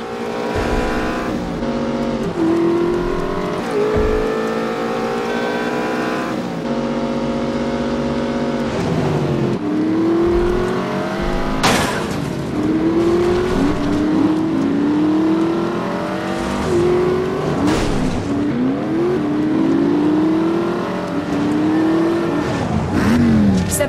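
Car driving in The Saboteur video game, its engine droning and revving through repeated rising gear changes, loud and continuous with occasional sharp bumps and no talking.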